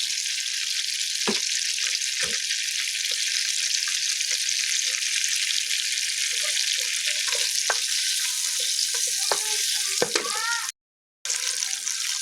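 Chopped tomatoes sizzle and fry in a hot pan for chicken biryani, a steady loud hiss with occasional stirring scrapes and clinks, and a brief dropout near the end.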